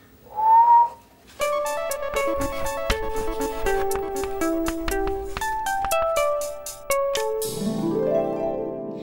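Someone whistles through their lips, one short rising note and then a clear, tuneful melody of stepping pitches, alone and fairly close.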